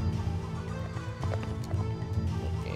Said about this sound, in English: Okay, we have another horse there.